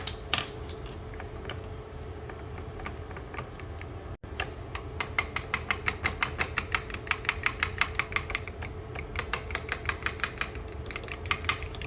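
Seafood egg roll filling being stirred together with Cajun seasoning, a steady run of quick clinking and tapping strokes against the bowl that grows louder and more regular midway, close and without talk.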